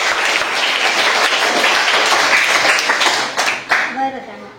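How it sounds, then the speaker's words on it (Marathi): A group of schoolchildren at a village primary school quiz applaud a classmate, a dense burst of clapping lasting several seconds before tapering off into scattered claps and a brief voice at the end. "जान्हवीसाठी सगळ्यांनी टाळ्या वाजवल्या"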